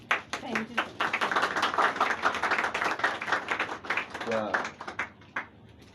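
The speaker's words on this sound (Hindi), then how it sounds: "जोरदार तालियां हो जाए" An audience gives a burst of brisk hand claps at a gathering on children's psychology and health, swelling then thinning into a few scattered claps, with people talking over it.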